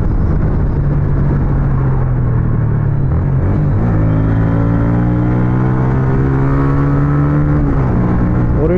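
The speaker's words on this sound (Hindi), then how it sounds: "आपको ना एग्जॉस्ट की साउंड ज़्यादा सुनने को मिलेगी" Loud car exhaust rumbling and droning steadily while driving, rising and shifting in pitch as the engine revs, with no talk over it.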